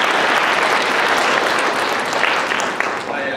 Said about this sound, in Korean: 강 선생님께 큰 박수로 환영해 주시기 바랍니다.